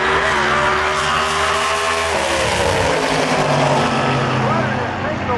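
Trans Am drag cars launch at Milan Dragway in a heads-up race, a loud continuous engine roar with rising and shifting revs that fills the whole stretch, with an announcer talking over it.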